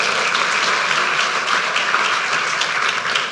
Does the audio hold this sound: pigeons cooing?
no